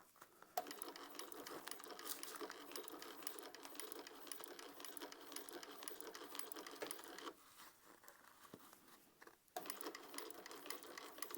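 A sewing machine stitches a Modified Aries crossbody bag in a steady, close whirring run. The stitching stops briefly near the end, then starts again.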